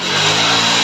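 A Hero HF Deluxe BS6 motorcycle engine, fully repaired, revs loudly and steadily at close range in a workshop, a continuous sustained roar with no talking.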